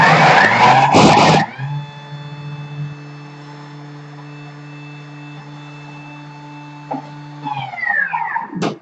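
A Thermomix blade spins while blending vegan kaya, beginning with loud chunky churning and then settling into a steady motor whine with a sustained mechanical hum that winds down near the end.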